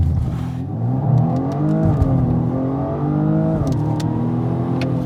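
A BMW M235i xDrive Gran Coupé launches hard using launch control, its engine note climbing loudly and close through the gears with two audible shifts.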